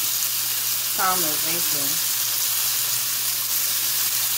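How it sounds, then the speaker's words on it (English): Shrimp dropped into a hot pan with about a tablespoon of oil give a steady, broadband sizzle and frying hiss throughout, with a brief spoken remark partway through. "we're going to put these shrimp in here like that so it can get"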